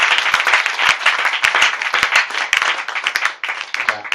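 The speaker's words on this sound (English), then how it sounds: "Clap for Jesus" A church congregation claps together loudly and steadily, with a brisk, continuous patter of many hands close by and some voices mixed in.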